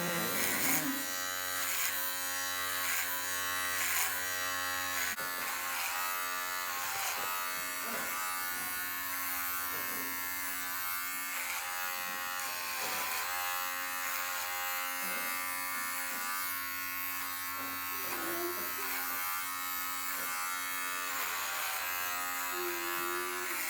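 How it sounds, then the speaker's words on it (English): Electric hair clippers run steadily throughout a home haircut, a continuous close buzzing hum with slight shifts in pitch and tone as the blades pass through hair, heard alone with no talking. "just loosen your hand and just move the clippers towards you"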